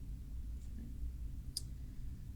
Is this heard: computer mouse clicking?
yes